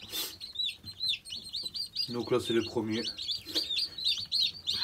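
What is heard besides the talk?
Eurasian teal ducklings peeping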